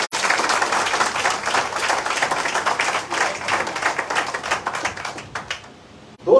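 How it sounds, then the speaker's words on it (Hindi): An indoor audience at a business meeting gives a long, loud round of applause, dense rapid clapping that fades toward the end before a sharp sound cuts in. "एक बार जोरदार ताली दो हमारे मोहम्मद में"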